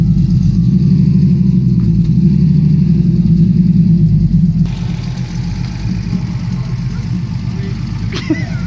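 A TVR 290 S idles and rumbles close by in a yard on new wheels, a steady, throbbing engine note that shifts in tone partway through as it creeps along.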